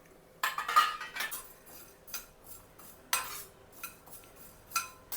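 A spoon scrapes and taps against a pan in irregular strokes while roasting spice mix, close and fairly quiet, with short pauses between stirs.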